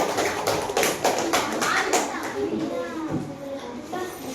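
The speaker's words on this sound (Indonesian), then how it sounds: "Tepuk tangan dulu buat kelompok 3." Children in a classroom clap for a group of classmates, a scattered burst of close, sharp claps that fades into lighter taps as children's voices chatter in the background.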